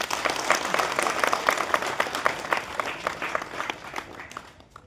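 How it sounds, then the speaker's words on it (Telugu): Audience applause breaks out at a road safety talk, a dense crowd clapping loudly at first, then thinning and fading away toward the end. "ఒకసారి గట్టి చప్పట్లు కొట్టండి."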